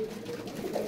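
Pigeon cooing in a loft in Faisalabad, one soft throaty coo rolling over under a second, faint and close.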